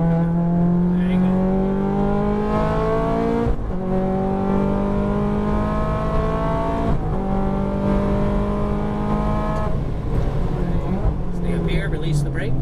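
A Ferrari F430 on a race track, its engine held at a steady high drone with two brief dips between gear changes and then a rev swell, loud and close, while someone talks over it.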